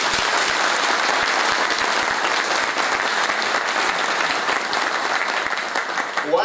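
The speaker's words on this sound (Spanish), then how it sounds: "Me gustaría que le diéramos un fuerte aplauso." Loud, dense applause from a large audience at a higher education congress, a continuous even roar of clapping throughout, with no talk over it.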